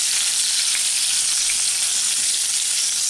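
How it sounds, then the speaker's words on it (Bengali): Pieces of pointed gourd fry in hot oil, giving a loud, steady, close hiss of sizzling with faint crackles throughout and no talk. "পটলটাকে আমি হালকা বাদামি করে ঘুরিয়ে ফিরিয়ে ভেজে নিচ্ছি।"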